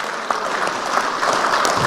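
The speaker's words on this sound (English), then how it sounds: "can I get a round of applause for Leslie for being Sergeant of Arms?" Applause at a general meeting, a dense, even burst of many hands clapping that carries through the whole stretch without any speech.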